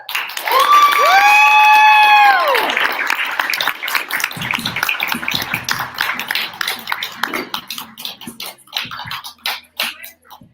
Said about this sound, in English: clap some more